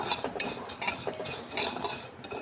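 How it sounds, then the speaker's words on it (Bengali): Small sago pearls are dry-roasted in a pan and stirred, producing quick rhythmic scraping and rattling as the spoon sweeps the grains across the metal, close and fairly soft. "এরপর আমি সাবুদানাটাকে হালকা করে 3 মিনিটের জন্য ভেজে নেব"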